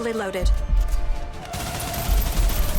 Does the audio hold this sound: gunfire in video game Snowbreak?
yes